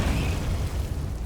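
A brief, loud explosive blast from the Confringo spell in Hogwarts Legacy, a dense, rumbling burst that fills the short moment without pause.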